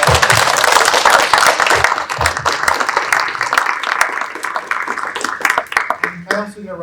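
A university audience gives a round of applause to the panelists at the close of an election discussion. Dense, steady clapping starts strong, then thins out and fades over several seconds.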